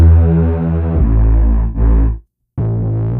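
A Reese bass synth, built from unison wavetable voices with distortion and multiband compression, plays thick, buzzing sustained notes, loud and alone, with a brief dip, then a short full cutout before it resumes.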